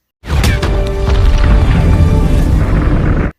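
The Dutch Boy satellite station explodes in the film Geostorm, a loud, sustained roaring blast with crackling debris that rumbles on for about three seconds before cutting off abruptly.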